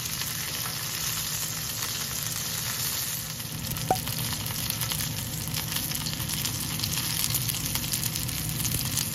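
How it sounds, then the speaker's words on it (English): The fat cap of a marinated Lao steak sears in a hot pan, making a loud, unbroken crackling sizzle with scattered pops and one brief clink. No one speaks. "Last but not least, we're going to brown the fat cap."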